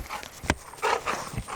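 A dog makes brief, moderately close noises, a short sharp burst followed by a couple of shuffling, snuffling bursts in a quiet setting.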